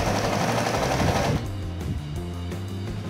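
Sewing machine stitching and backstitching while attaching narrow bias binding to a dish towel holder, a dense steady motor whir that briefly shifts to a lighter rhythmic stitching pattern, close and continuous.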